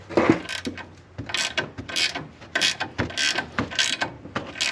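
A ratcheting wrench turns a sway bar link nut during a coilover install on a 2018-2024 Chevrolet Equinox, giving a string of quick mechanical clicking bursts at close range with no talking.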